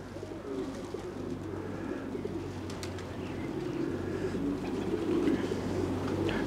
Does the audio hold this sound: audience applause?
no